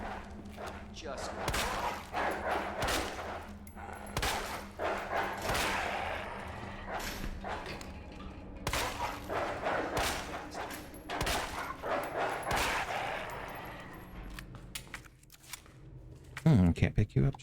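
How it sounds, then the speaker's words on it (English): A caged dog barking repeatedly in the Resident Evil 2 video game, sharp barks and yips breaking through game noise and a player talking over it. "Don't forget the dog's in the cage."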